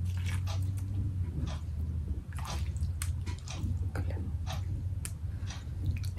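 Wet, squishy chewing and biting of food close to the mic in an ASMR-style eating session, steady soft mouth sounds repeating over a constant low background hum.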